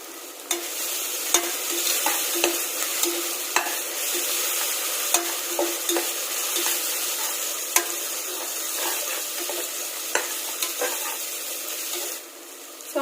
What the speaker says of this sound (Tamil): ஆனியன் எல்லாம் நல்லா ஃப்ரை ஆகட்டும்.